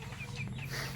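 Three-week-old White Leghorn x Rhode Island Red chicks give a brief burst of soft, close cheeping and clucking from a farm coop, heard alone.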